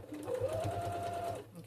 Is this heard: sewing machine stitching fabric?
yes